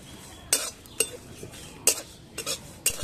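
A spoon clinks and scrapes against a pan in a few distinct strokes while whole cumin, panch phoron, fenugreek and dried red chillies fry in oil for raw mango pickle, with only a faint sizzle beneath.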